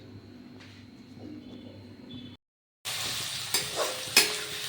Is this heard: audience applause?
no